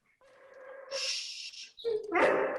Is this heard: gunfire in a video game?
no